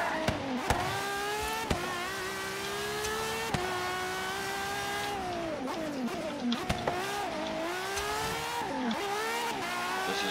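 A Ferrari 599XX engine screams through gear changes in Forza Horizon 3 on the Goliath route, with sharp shift cuts, rising revs and occasional tire squeal, loud and steady with no talk.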